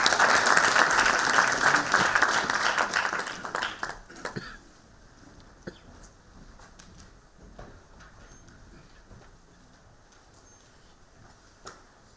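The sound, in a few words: audience applause at seminar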